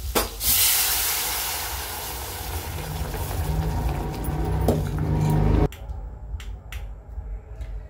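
Boiled sorghum ghugrya hit a hot tempering of oil and spices, setting off a loud rushing hiss and crackle that fades over several seconds, then cuts to faint scattered clicks of stirring.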